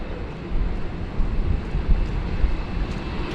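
Qantas 470, a passenger airliner arriving at rainy Sydney Airport, gives a steady low rumble with wind noise, a continuous broadband roar holding fairly even loudness throughout.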